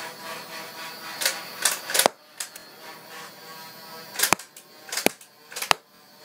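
Toy Nerf gun firing foam darts, a series of sharp snapping pops in bursts, several close together then a pause and a few more, loud and close with no talk.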